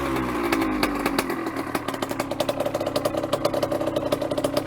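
A 1986 KTM 80MX two-stroke dirt bike engine idles close by just after a first-kick cold start, settling into a fast, even, crackling putter with no voices.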